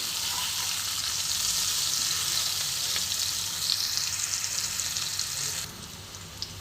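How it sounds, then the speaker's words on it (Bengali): Potatoes with turmeric fry in hot oil, making a loud continuous sizzle nearby that drops off sharply near the end. "আলুটা ফ্রাই করা হয়ে গেছে,"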